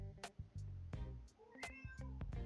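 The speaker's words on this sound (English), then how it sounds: "You gonna meow at me?" A cat meows several times in a row, short plaintive calls close by, with soft handling noises between them.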